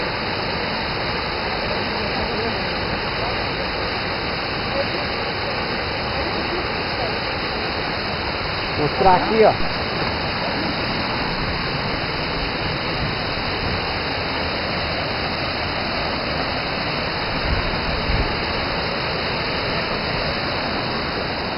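Waterfall of the Eubiose in São Thomé das Letras, Brazil, a constant rushing roar of falling water throughout, with someone speaking briefly partway through.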